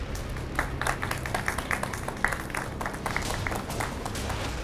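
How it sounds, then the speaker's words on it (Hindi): A TV studio audience claps in an uneven patter, with individual hand claps standing out over a low background hum, moderately quiet and sustained. "आपकी तालियों का साथ।"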